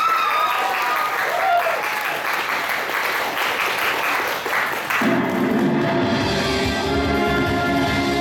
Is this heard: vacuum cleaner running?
no